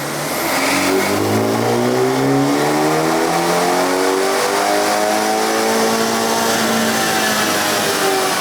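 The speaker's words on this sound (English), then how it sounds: "This is a JB4 Map 3 E30 full bolt-on dyno run." A BMW 330i with the B48 engine, full bolt-ons and running a JB4 map 3 tune on E30 fuel, revs loud and steady on a dyno, climbing in pitch through a long continuous pull.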